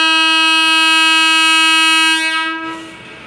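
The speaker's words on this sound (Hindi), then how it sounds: "और अभी ट्रेन जा रही है।" A train passes close to a house beside a railway station, sounding a loud, sustained horn for over two seconds before it fades away.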